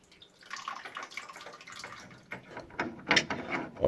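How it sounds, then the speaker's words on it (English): Water trickling and splashing from an Ideal boiler after a part is unscrewed, an uneven close run of drips and spatters growing louder toward the end. "You hear the water?"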